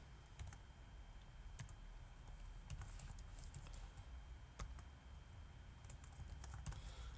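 Someone types HTML code on a computer keyboard, producing a steady patter of soft, quick key clicks at low level over a faint background hiss.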